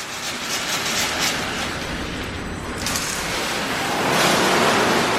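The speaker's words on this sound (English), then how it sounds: "Tire cleaner from the back." Tire cleaner sprays from the back of a Washworld Profile automatic wash at a TLC Car Wash in Draper, a steady close hiss and rumble of jets on the car that swells louder toward the end.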